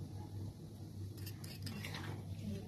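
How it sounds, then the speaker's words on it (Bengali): A utensil stirs restaurant-style vegetarian chickpea masala curry in a pan, with scattered clinks and scrapes clustering mid-clip over a steady low kitchen hum, moderately faint. "এবার ভালো করে নাড়িয়ে নিতে হবে"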